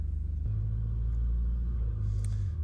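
A Mitsubishi Pajero reverses down a sand dune at Stockton Beach, its engine a steady low rumble up close that swells slightly partway through and holds throughout.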